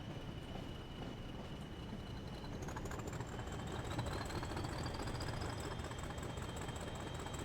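A Northern Trans Pennine train in Train Sim World 4 runs steadily with a low rumble of engine and wheels, rising tonal whines layered over a continuous drone and no talking.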